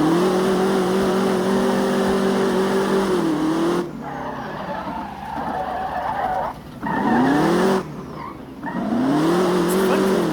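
A street-tire truck drifting in a racing video game: a loud, steady engine drone that dips and swells with revs, broken by brief skidding tire noise.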